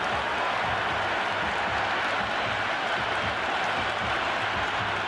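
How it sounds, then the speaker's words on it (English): Stadium crowd at an IPL cricket match between DC and LSG roars and cheers after a batter lofts a six, a dense, sustained wall of noise from the stands with no clear break throughout. "There's a buzz, a real buzz coming from the stands."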